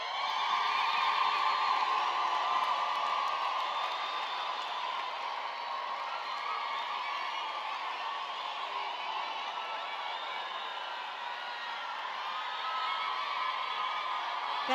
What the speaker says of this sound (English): May you please stand up and give yourselves a round of applause.